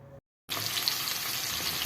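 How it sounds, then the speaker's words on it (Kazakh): Oil frying in a pan as the first step of Kazakh plov with meat, rice, onion and carrot, a loud, steady sizzle that starts suddenly after a brief silence and continues close up. "Алдымен табаға майымызды қуырып аламыз."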